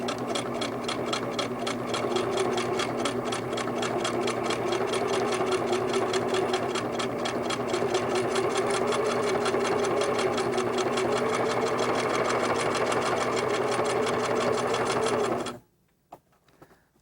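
A sewing machine runs a steady straight stitch around an appliqué on a quilt, a fast, even needle rhythm holding close and loud for about fifteen seconds before stopping abruptly.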